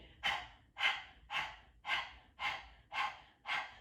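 Rhythmic panting breaths with the tongue stuck out, dog-style, during a power yoga breathing exercise; seven evenly spaced, breathy exhalations about every half second, close and alone with no talk.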